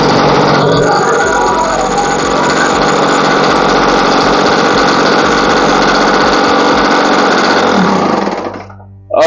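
An old generator engine, just kickstarted during a capacitor repair, runs loud and steady with a rough mechanical drone close by for about nine seconds before cutting off abruptly.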